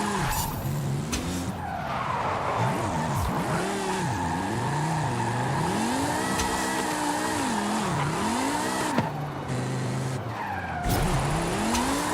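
A BMW M2 drifting in the racing game Forza Horizon 5 gives a continuous, loud tire squeal over a steadily rising and falling engine note, with the skid holding throughout.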